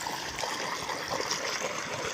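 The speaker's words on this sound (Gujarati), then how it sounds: "તો હવે આપણે પંપમાં પાણી ભરશું" Water poured into a 15-litre sprayer pump tank at a farm plot, a steady, close trickling and gurgling stream that runs without a break and with no voices over it.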